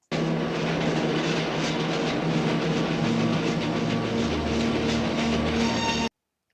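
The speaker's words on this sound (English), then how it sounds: "Either way, he's ran over by a train." A train running over a man in a 1987 action film scene, a dense, loud roaring rush of rail noise with steady rumble and rattling that holds for about six seconds and then cuts off abruptly.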